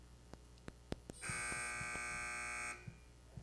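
A quiz-match buzzer sounds one steady electronic tone lasting about a second and a half at a school competition, with faint knocks and room noise before and after.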